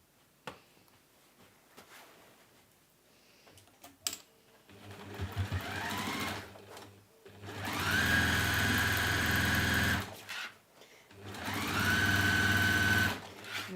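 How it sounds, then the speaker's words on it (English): A sewing machine top stitching a fabric pouch, running in two loud steady bursts of rapid mechanical whirring with quiet handling clicks and pauses between them. "I'm going to top stitch just around there."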